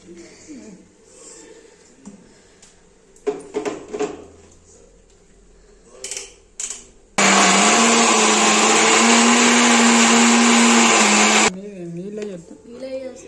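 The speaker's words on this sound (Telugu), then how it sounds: "ఈ పచ్చడి అయితే మిక్సీ గిన్నెలోని వేస్తానండి ఇవన్నీను" A mixer grinder roars loudly for about four seconds as it blends bottle gourd chutney, with a steady high whine after scattered clatter from setting up the jar, and a voice talks before and after.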